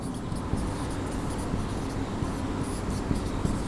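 Pen scratching steadily across paper while notes are written by hand, a soft continuous scribble heard close up with no talking.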